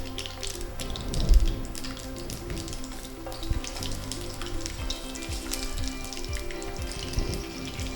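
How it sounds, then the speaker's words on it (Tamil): Garlic goes into hot oil for a garlic potato masala and sizzles steadily, a bright continuous crackle and hiss with small pops, close and moderately loud, with no voices. "பூண்டை இதில் போடுறேன்."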